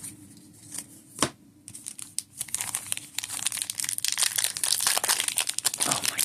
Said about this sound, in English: You have to be the strongest dude in the world to open these packs.